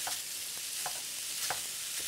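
Italian sausage frying in a pan makes a steady hissing sizzle, with a few soft scrapes and taps from stirring, close and brief, with no talking.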